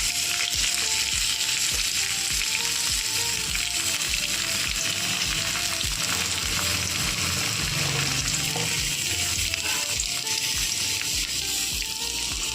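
About ten ivy gourds fry in two spoons of hot oil, crackling and sizzling loudly and continuously up close, with intermittent scraping and stirring knocks against the pan.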